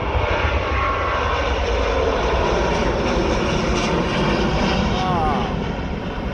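A Pegasus Airlines Airbus A321neo jet roars steadily through a takeoff run, a loud continuous broadband engine rumble that holds from start to finish, with faint voices mixed in beneath it.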